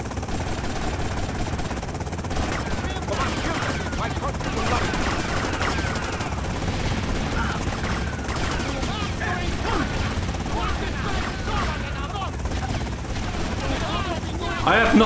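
Gunfire in the video game Grand Theft Auto: Vice City rattles in dense, rapid bursts throughout, close and loud, with mechanical clatter and other game noise mixed in.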